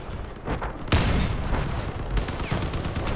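Cannon fire in the vehicle combat game Crossout, several loud booming shots with sharp onsets and rumbling tails amid ongoing battle noise.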